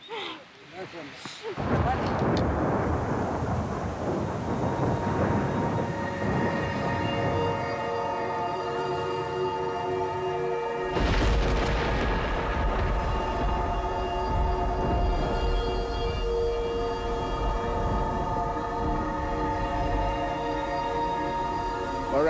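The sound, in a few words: thunder from a storm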